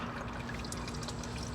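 Motor oil drips and trickles from the oil filter of a GMC Sierra 2.7L TurboMax into a drain pan, a faint, steady pouring sound with no one talking.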